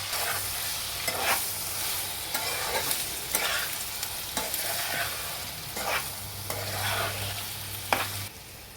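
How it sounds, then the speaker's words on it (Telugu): Chicken for homemade chicken pickle fries in a pan with ginger garlic paste and curry leaves, giving a steady close sizzle broken by repeated scraping stirs every second or so. "దీనికి 2 స్పూన్స్ అల్లం వెల్లుల్లి పేస్టు వేసి కొంచెం కరివేపాకు వేసి పచ్చిదనం పోయే వరకు బాగా వేపాలి"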